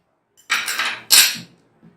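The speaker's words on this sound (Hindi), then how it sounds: "अच्छी तरह से ये मिक्स कर देंगे हम इसमें" Metal spoon scraping and clattering in a pot as beef karahi is stirred with ginger-garlic paste, heard as two short, close bursts of clinking and scraping.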